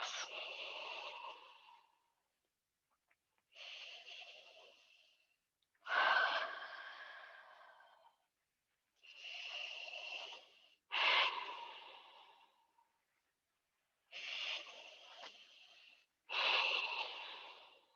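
Slow, deep breathing during a yoga session, audible inhales and exhales in a steady rhythm of about seven breaths, each lasting a second or two with quiet gaps between, close and soft.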